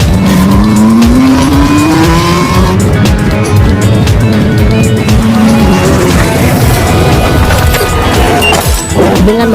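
A BMW races in an action film chase scene, its engine roaring with rising revs while tires squeal and skid, and a heavy truck rumbles alongside; the mix is loud and dense, with brief impact thuds.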